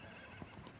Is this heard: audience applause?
no